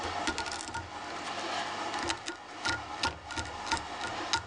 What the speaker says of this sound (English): I will take my velcro and I will velcro the thorax just a little bit